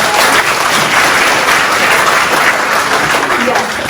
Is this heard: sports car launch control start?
no